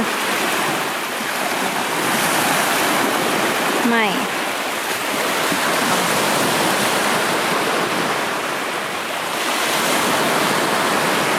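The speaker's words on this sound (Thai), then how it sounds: "ลุ้นให้น้ำทะเลพัดมา" Sea waves wash in on a shore in a constant loud roar of surf and water, with a brief voice heard once partway through.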